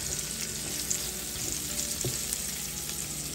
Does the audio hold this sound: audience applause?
no